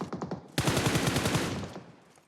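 Rapid automatic gunfire from a PUBG Mobile match: a soft burst of shots at first, then a loud, dense stream of rounds that fades out near the end.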